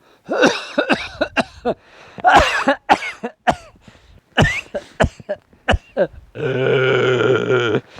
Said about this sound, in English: Oh my goodness, coughing.